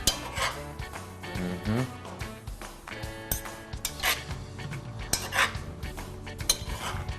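A spoon stirs feijoada ingredients and spices in a metal pot, giving irregular scraping, clinking knocks against the pot's sides, close up and fairly loud, with no talking over it.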